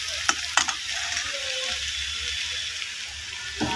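Aubergine and potato fry in a pan under a steady sizzle, with a couple of sharp spatula scrapes near the start and another toward the end, no voices.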